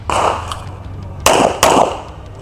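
Two sharp pistol shots go off about a third of a second apart in a competition shooting session, loud and close, after a softer earlier noise.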